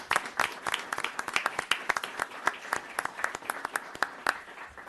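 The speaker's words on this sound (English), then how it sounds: "Can I get a nice round of applause for Officer Ashley Sakaza?" Town board meeting audience claps for a police officer, a steady round of distinct hand claps from a modest crowd, fairly close and sustained throughout.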